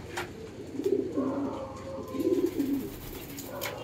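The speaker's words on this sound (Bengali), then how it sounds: "এই পায়রাটা যেটা আমার বাড়াতে আছে, এটা নর পায়রা আছে" A pair of homing pigeons, including a male, give two distinct bursts of deep rolling coos close up, separated by a short pause, with light ambient noise around them.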